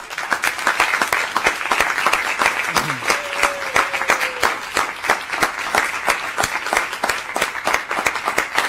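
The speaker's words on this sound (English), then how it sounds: "You may applaud now." At a county school board meeting, scattered, distinct handclaps from a modest crowd ring out in an uneven rhythm, with a brief voice or sound rising briefly partway through.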